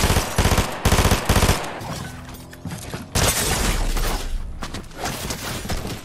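Rapid bursts of gunfire in a Fortnite match, loud repeated volleys with sharp cracks and shattering impacts, continuing with dense chaotic shooting and mechanical clatter.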